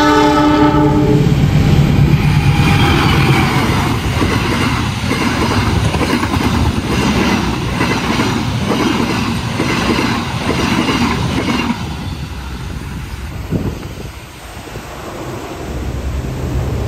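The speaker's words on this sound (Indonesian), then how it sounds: "Wijaya Kusuma telah melintas di sini dengan kecepatan yang tinggi" Wijaya Kusuma passenger train racing past at high speed, opening with a loud horn blast, then a sustained roar with rapid rhythmic clatter of wheels over rail joints that fades as the cars clear.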